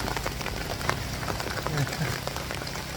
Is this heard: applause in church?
no